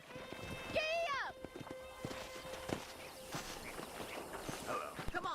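A horse ridden at a walk in Red Dead Redemption, steady clip-clopping hooves under a whinny near the start, with background game sounds and a voice talking.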